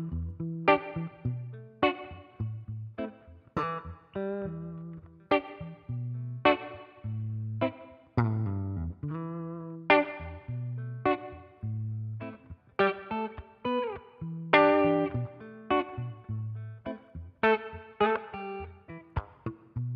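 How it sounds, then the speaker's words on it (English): Electric guitar plays picked chords and single notes with clear echoing reverb tails, the decay shifting between short and long, no voices. "toggling back and forth between a short reverb and a long reverb"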